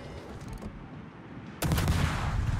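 Naval gun shells firing in World of Warships around a French tier 8 destroyer, a sudden loud broadband blast after a quieter stretch of battle ambience, sustained rumbling to the end.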